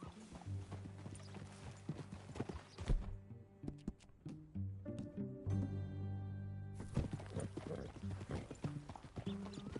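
Horse hooves clip-clop at a steady, fairly quick gait in the Red Dead Redemption 2 video game, close and clear, with sustained game music tones beneath and a brief quieter break partway through.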